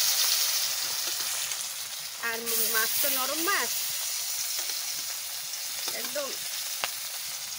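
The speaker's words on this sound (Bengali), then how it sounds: "তেলে ধোঁয়া ধোঁয়া উঠতেছে, আমি এখন মাছ ভাজা বসাই দিচ্ছি" Fish fries in smoking-hot mustard oil with a bright, continuous sizzle and hiss, while a voice talks briefly over it partway through.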